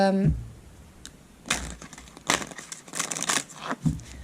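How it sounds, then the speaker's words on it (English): Thoth tarot cards being shuffled by hand in short papery riffling bursts, several close crinkly flurries separated by brief pauses, with no talk. "let's actually do the shuffle"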